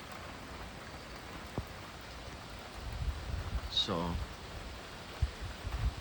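Heavy morning rainstorm around seven o'clock, a steady broadband hiss of downpour filling the background, with a brief voice and a few soft thumps and rustles nearby.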